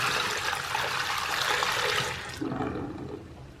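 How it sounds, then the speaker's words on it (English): Dirty wall-cleaning water pours out in a bathroom, a steady loud splashing rush that stops abruptly near the end, leaving a faint trickle and room tone. "I wanted to pour out this water from me cleaning the walls"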